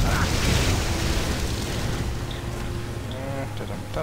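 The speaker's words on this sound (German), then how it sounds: "Die explodieren ja." Explosions burst in the Torchlight 2 game, dense booming blasts rumbling continuously over a busy, noisy mix of game sound.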